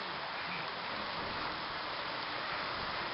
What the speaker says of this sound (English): Yep, there it goes. Comes the rain.